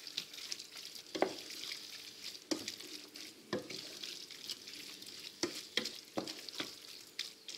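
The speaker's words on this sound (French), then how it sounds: "je vais rajouter mes baies, ainsi que la ciboule. Et je donne quelques petits coups de mélange" Chicken breast with mushrooms, berries and chives is stirred in a hot frying pan. A steady sizzle runs throughout, broken by several distinct scraping strokes of the utensil against the pan, close and fairly quiet.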